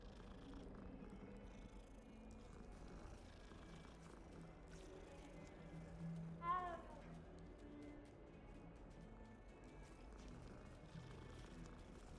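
Several cats inside the video game Hogwarts Legacy purr softly under low background ambience, with one brief meow rising faintly in the middle.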